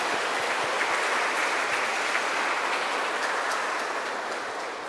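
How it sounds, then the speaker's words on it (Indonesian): A crowd applauds steadily in a church at a children's First Communion, a dense wash of clapping hands that holds evenly and tapers slightly at the end. "Mari kita beri tepuk tangan untuk anak-anak ini"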